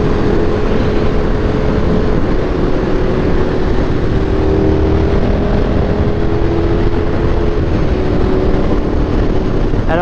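KTM 1390 Super Duke R Evo motorcycle being ridden, with a loud, continuous engine roar mixed with heavy wind rush. The sound holds steady throughout.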